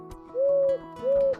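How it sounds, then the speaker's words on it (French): A small bird also known as the coucou gives two loud, even hoots, close together and nearly identical, over a faint rhythmic background. "également appelé coucou, est très reconnaissable à son cri"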